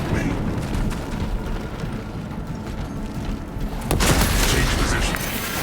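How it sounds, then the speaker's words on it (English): Frag grenade blast in the video game Warhammer 40k: Space Marine, heard as a loud burst about two-thirds through, set amid continuous gunfire and battle noise. "Frag grenade deployed!"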